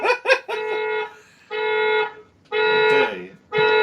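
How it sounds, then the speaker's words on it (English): Car alarm blaring outside a window, repeating a steady electronic tone in evenly spaced bursts about a second long with short gaps, loud and fairly close, preceded by a couple of quick warbling chirps. "Do you hear the car alarm?"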